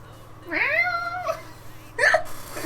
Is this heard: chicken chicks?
no